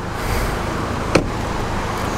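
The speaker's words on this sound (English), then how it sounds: "Both cars running, both cars pretty quiet for the most part." Two 2017 Volkswagen GTIs, an S and an SE, idle together as a low, steady, quiet engine hum, with one brief sharp click midway.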